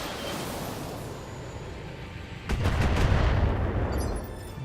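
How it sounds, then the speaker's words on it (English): Indirect-fire artillery barrage in the BattleTech video game: a low, rumbling rush of impacts swells in halfway through and keeps booming over a steady background hum. "Let's get some indirect fire on this guy."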